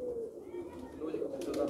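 A pigeon gives low, soft, throaty coos close by over faint room noise.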